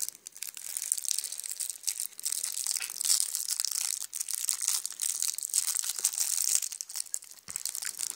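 Golden Lily cream candy's wrapper being unwrapped by hand, a close, steady crinkling and crackling of the wrapper that runs almost without a break and stays fairly quiet.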